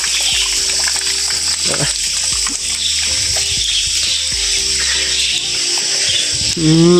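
Water pours from the stone spouts at the 108 Dhara temple in Nepal, a close, continuous splashing and gushing with intermittent talk over it.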